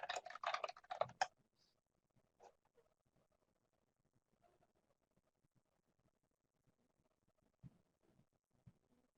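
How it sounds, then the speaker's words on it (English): Someone types on a computer keyboard in quick, close bursts of clicking at first, then sparse, faint scattered keystrokes in an otherwise quiet room. "We have a participant typing in a question"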